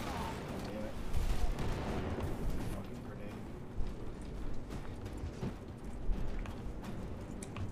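Gunfire in the Space Marine 2 video game comes as a dense, chaotic run of repeated shots and impacts under a noisy battle mix, with some sharper bangs standing out.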